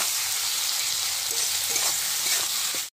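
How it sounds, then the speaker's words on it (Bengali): Spice masala frying in a pan for a jackfruit and prawn curry, a steady loud sizzle with a few stirring scrapes near the end, close up, no voices. "দিয়ে এবার খুব ভালো করে এটা কষতে থাকবো, আর যতক্ষণ না এই মশলার কাঁচা গন্ধটা চলে যাচ্ছে।"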